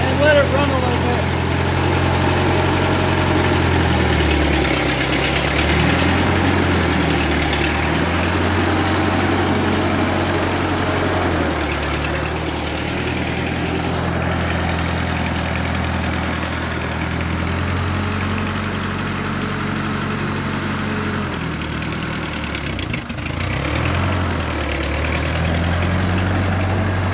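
A 1948 Ford 8N tractor, just repaired after stuck valves, idles steadily with a low, chugging rumble that holds its rhythm throughout, with slight fluctuations in tone and faint voices underneath.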